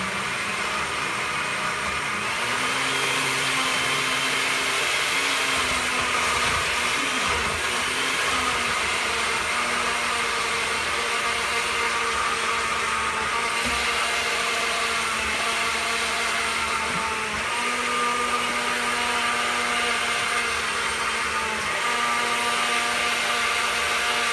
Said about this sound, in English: So pardon me while I use the blender.